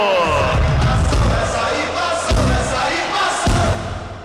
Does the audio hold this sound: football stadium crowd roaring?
yes